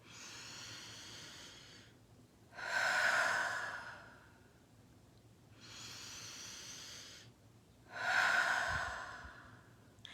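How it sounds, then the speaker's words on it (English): Slow, deep breaths close to the ear: two long airy inhales and two louder exhales, alternating in an even, unhurried rhythm. "We need to get those nice, deep belly breaths"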